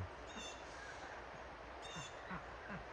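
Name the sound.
crow or raven cawing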